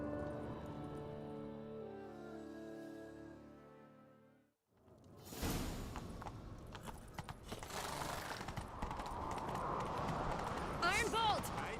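Galloping horse hooves in The Witcher 3, a steady rapid clip-clop under game music and action sounds, with speech over it in the second half.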